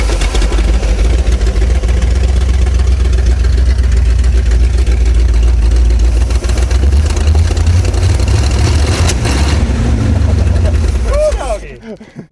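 An abandoned Chevrolet C10 pickup project engine, with a leaking fuel pump, rumbles low and loud at a rough idle for about eleven seconds before cutting out, while people talk over it.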